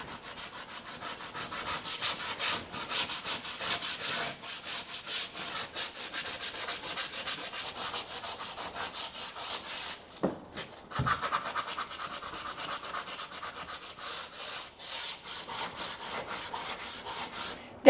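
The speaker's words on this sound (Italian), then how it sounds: "Adesso andiamo a carteggiare leggermente il bordino in modo da eliminare leggermente lo scalino" Sandpaper rubs lightly and steadily along the edge of a wooden bookcase in quick, close back-and-forth strokes, broken by a short pause around the middle, with no voices.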